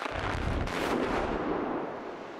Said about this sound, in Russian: Поэтому единственный выход – профилактические взрывы.